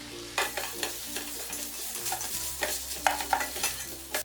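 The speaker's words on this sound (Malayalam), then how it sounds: "ഇതോടൊപ്പം തന്നെ ഈ അരിഞ്ഞു വെച്ചിരിക്കുന്ന പച്ചമുളകും ചേർത്തൊന്ന് ഇളക്കി കൊടുക്കാം." Ginger garlic paste and chopped green chillies stirred in a hot pan while frying for egg biryani, a steady sizzle broken by repeated scraping stir strokes, close and clear with no talk.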